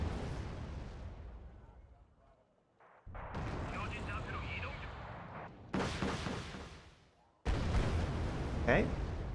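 Artillery fire in the wargame Wargame: Red Dragon: a series of heavy, booming blasts with rumbling tails, arriving in distinct bursts every couple of seconds at moderate loudness.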